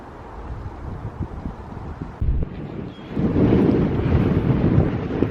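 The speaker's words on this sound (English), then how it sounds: "Okay, it's very windy." Strong coastal wind buffets the microphone in a continuous low roar, gusting harder and louder in the second half.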